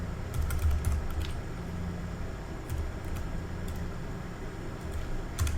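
Keys clatter in short bursts on a computer keyboard as commands are entered at a Cisco router's configuration prompt, with light clicks over a steady low background hum.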